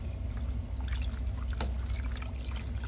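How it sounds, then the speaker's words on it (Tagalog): Water pours into a cooking pot for sotanghon soup, a steady close trickle over a constant low background hum. "Lagyan natin siya ng tubig."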